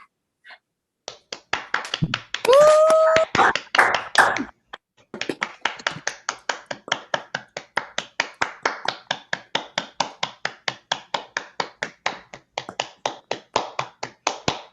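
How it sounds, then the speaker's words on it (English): Clapping over open microphones at an online closing ceremony, a brief tone and rustle first, then a long run of sharp, evenly spaced single claps in steady rhythm, close and crisp. "turn on your mics for a round of applause"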